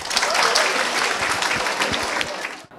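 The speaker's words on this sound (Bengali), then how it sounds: "জোরে একটা হাততালি দেই সবাই।" Students at a school quiz competition burst into loud, sustained applause for a correct answer, dense clapping filling the room before cutting off abruptly at the end.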